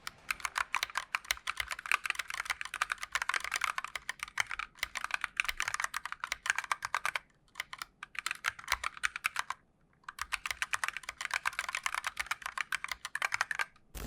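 Steady, rapid typing on a Moonlander split keyboard fitted with Kailh Box Red linear switches, close and clear, with dense clacks running continuously and two brief pauses near the middle; no voices.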